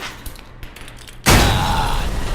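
A thrown grenade blows up the gas tank of a truck in the Alpha Protocol PC game, a sudden loud explosion bursting in after quiet and rolling on as a sustained, roaring blast with debris.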